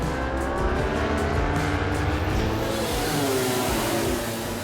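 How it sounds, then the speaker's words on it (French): MotoGP motorcycle engine at the French Grand Prix as a rider tries to restart it, a loud continuous mechanical roar with broadband noise and steady vehicle sound throughout, no clear revving bursts standing out. "Y ahí está, tratando de arrancar la moto."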